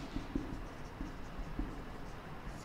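Chalk or marker writing on a classroom board during a civics lesson, a close series of scratchy strokes and taps in an uneven rhythm, moderately quiet with no talking.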